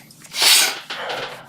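A single sharp human sneeze, close and loud, bursting out with a breathy rush and trailing off into a short second exhalation, with no talk.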